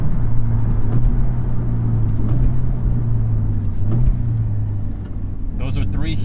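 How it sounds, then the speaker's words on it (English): Manual-transmission car making heel-toe double-clutch downshifts from fifth through fourth and third to second, its engine hum stepping up in pitch with brief blips, steady and close under ongoing talk. "Those are 3 heel toe double clutches from fifth to fourth to third to second."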